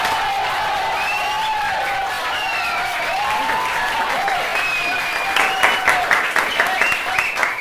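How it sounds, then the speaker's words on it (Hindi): Classroom applause: students clap in a lively room while voices chatter and call out over it, and a burst of sharper, rhythmic claps comes near the end. "इतना अच्छा answer दिया यार, ताली बजाओ यार"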